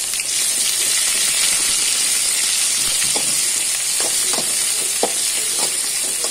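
Chopped onions fry in hot oil as the base for a clam (shellfish) sukka, a steady, close, dense sizzle with a few light stirring clicks and no talking.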